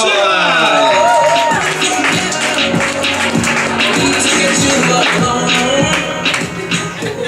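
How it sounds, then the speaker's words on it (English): Audience applause and cheering at a late-night comedy show, a loud crowd clapping with whoops and shouts while music with a steady beat plays underneath throughout. "Give a round of applause for Stuart, everybody."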